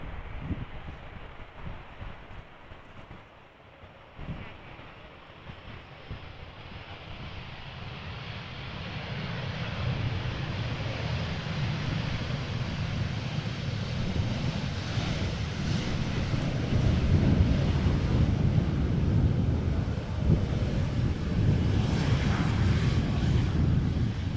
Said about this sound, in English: This is KLM flight 986 arriving from London City. Yet again an Embraer 190